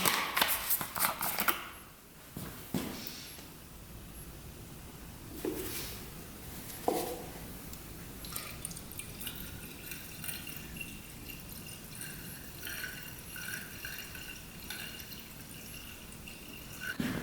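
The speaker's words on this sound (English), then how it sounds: "Let's get some coolant in here." Coolant is poured into a Yamaha YFZ 450 race quad, with faint trickling, dripping and gurgling, broken by a few sharp clanks and rattles of handling at the start, heard close in a quiet space without talk.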